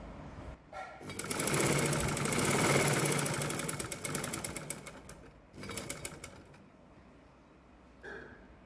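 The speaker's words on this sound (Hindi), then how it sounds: "अब दोनों पार्ट ओवरलैप करते हुए रखेंगे और साइड की सिलाई करेंगे।" A sewing machine runs a side seam on loose palazzo trousers, whirring in a fast steady stitching rattle for several seconds, pausing briefly, then running again before stopping, close up with no talk.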